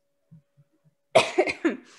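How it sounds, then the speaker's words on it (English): A few faint soft sounds, then a burst of three harsh coughs close by, the first loudest, with no talking. "Sorry, I had to cough that whole time."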